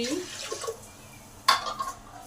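Water poured from a measuring bowl onto rice in a pressure cooker, a soft splashing stream near at hand, with a brief stronger gush partway through.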